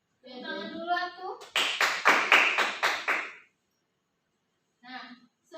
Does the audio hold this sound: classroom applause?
yes